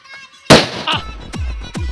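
One sharp, loud Diwali firecracker bang bursts out nearby, trailed by a few smaller, distant pops and cracks.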